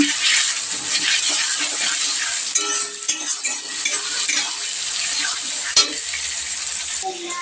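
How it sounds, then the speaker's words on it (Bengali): Garlic, ginger and green chili fry in hot oil for a mutton dish, a loud close continuous sizzle with occasional clinks of a utensil stirring in the pan and no speech. "এখন মটনের বেলায় আমি আগে রসুনটা দিয়ে একটুখানি ভেজে নেবো"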